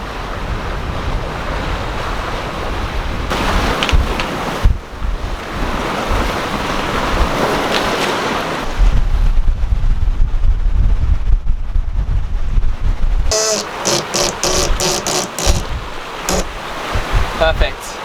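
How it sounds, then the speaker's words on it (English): Strong wind gusts roar across a sailboat under sail among hilly islands, with heavy microphone buffeting, rushing water and a brief lull before the wind surges again near the end. "We have gusts coming down off the hills everywhere through here and up ahead."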